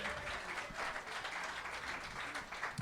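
Comedy club audience at a live Kill Tony show applauding steadily throughout, a dense, continuous wash of clapping held at an even level with no talk over it.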